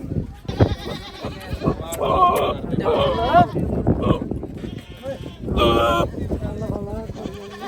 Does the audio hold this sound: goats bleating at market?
yes